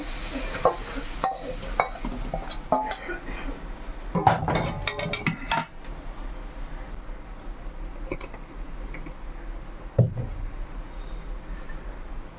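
Fried vegetables stirred and lifted out of a hot pan, with a steady soft sizzle under repeated scraping and clinking of a spatula, a busy cluster of scrapes near the middle and a sharp knock later.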